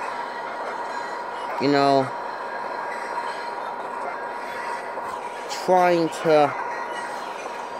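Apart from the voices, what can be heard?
fanmade Amtrak locomotive running at speed, train video game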